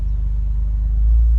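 Road traffic heard from inside a car, a deep continuous rumble of engine and tires that swells slightly toward the end, with no talking.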